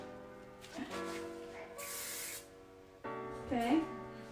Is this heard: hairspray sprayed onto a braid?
yes